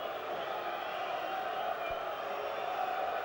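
A partisan boxing crowd at the Bruno versus McCall fight fills the arena with a steady, dense roar of cheering and murmuring, broad and continuous throughout, with no single voice standing out.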